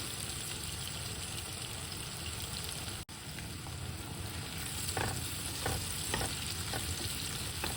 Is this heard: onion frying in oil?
yes